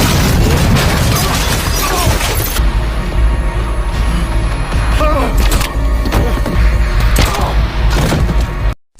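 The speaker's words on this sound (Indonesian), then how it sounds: "Lalu tidak lama kemudian ledakan terjadi dari lobi hotel." Film explosion tearing through a hotel lobby, a loud sustained roar of blast and rumbling debris filling nearly the whole stretch before cutting off abruptly.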